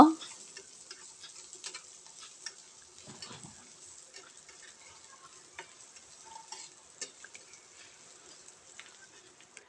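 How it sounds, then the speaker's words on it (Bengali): Chopped green chilies, dried chilies, onion and garlic are stirred in a pan: a faint, steady sizzle of frying with light, irregular scrapes and taps of the spoon, close by and with no voices. "এরপরে আমরা কাঁচামরিচ, শুকনো মরিচ আর পেঁয়াজ, রসুন সব কুচানো দিয়ে দেব। দিয়ে এটাকে একটু নাড়িয়ে নেব।"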